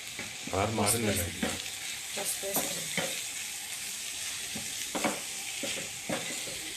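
Bitter gourd fries in hot oil in a home kitchen, a steady soft sizzle broken by scraping stirs and spoon clinks, close by, with a brief stretch of talk at the start.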